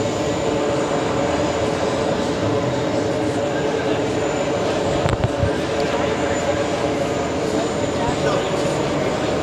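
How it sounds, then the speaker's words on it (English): An Iberia jet, flight 6252 bound for Madrid, takes off from JFK airport with a steady, broad roar that holds at one level throughout, with a brief louder burst midway. "That's a brilliant takeoff."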